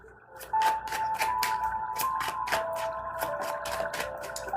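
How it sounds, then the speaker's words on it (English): Tarot cards being shuffled during a reading, a steady run of crisp, rapid riffling clicks and flutters close by, continuing without pause for several seconds with no talking. "Let me shuffle again."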